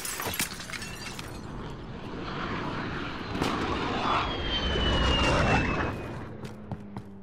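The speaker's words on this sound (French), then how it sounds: "Adav allié en vol stationnaire." Allied VTOL aircraft hovering in Call of Duty Modern Warfare, a broad roaring jet wash that swells toward the middle and then eases off, with scattered cracks and impacts layered over it.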